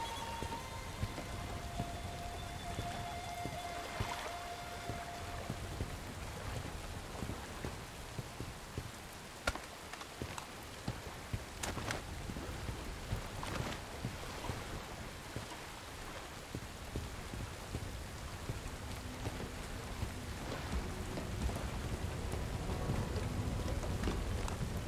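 Steady rain pours down in the video game Bright Memory: Infinite, a dense continuous hiss with scattered drop impacts and faint distant thunder throughout.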